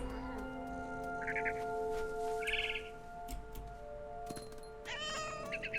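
A cat meows several times in the video game What Remains of Edith Finch, with short bright calls rising over a steady layer of game ambience and music. Nobody speaks.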